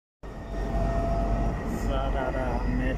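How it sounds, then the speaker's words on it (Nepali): Riyadh Metro Airport Line train moving, heard from inside the car as a loud steady rumble with rising motor whine and faint rail clatter after a sudden start. "सरारा मेट्रो यहाँदेखि चाहिँ स्टार्ट भएर हिँडिसकेको अवस्था छ।"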